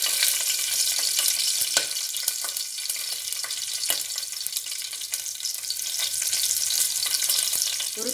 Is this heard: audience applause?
no